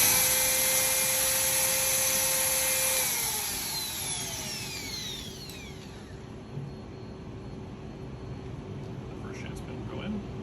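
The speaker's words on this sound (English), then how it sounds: "So we'll drill the first guy here" Surgical drill boring an external fixation pin hole along the intermedial aspect of the tibia for a tibial shaft fracture: a loud steady whine that winds down after about three seconds, then gives way to quieter low hum with faint clicks.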